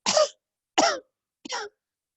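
Three sharp, forceful coughs push out an exhale during a breathing exercise, spaced roughly evenly, each short and close with a little throat rasp and silence between them.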